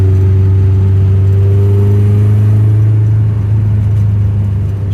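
BMW E30 street car with a chassis-mounted shifter, its engine holding a steady, loud mid-pitched drone with strong low harmonics that runs unbroken and alone for the whole stretch.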